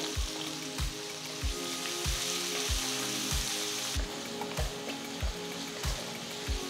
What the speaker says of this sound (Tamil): நெக்ஸ்ட் 1 வெங்காயம் நறுக்குனது சேர்த்து வதக்குங்க